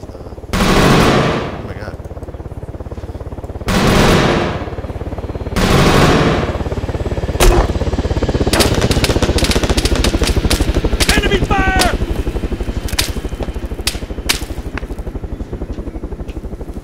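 Gunfire in the video game ArmA 3, with heavy bursts of automatic fire and rapid sharp cracks over a constant engine-like drone, loud and close, while people talk over it.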